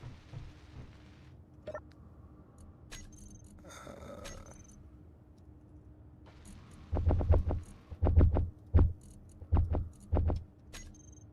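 Welding on a back wall in the space-building game Space Engineers, heard as a soft hum that gives way to a series of loud, rhythmic throbbing pulses near the end, with no talking.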